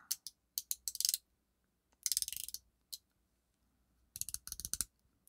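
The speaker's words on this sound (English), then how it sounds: "It is a little difficult to get to this bezel, but you can turn it easy enough." Dive watch bezel on a Citizen Ecozilla BJ8050-08E or Seiko Padi Solar Tuna SNE499 being turned by finger: close, crisp ratchet clicks in quick bursts separated by short pauses.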